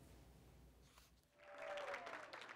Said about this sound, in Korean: 다기관 염증에 걸렸다가 회복한 어린이에게 의료진이 박수를 보냅니다